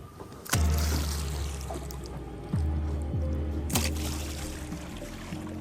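Water is splashed and slapped in a river to imitate a large crocodile moving quickly, giving a few sharp splashes at irregular intervals over a quiet, faint background.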